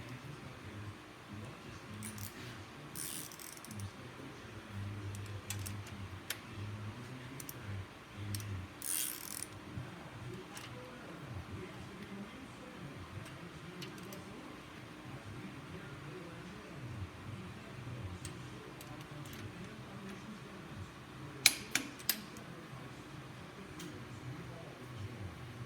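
A large Snap-on torque wrench ratcheting on the bolts of a 426 Hemi engine during assembly, soft repeated clicks with a few sharper metallic snaps near the end, under quiet background talk.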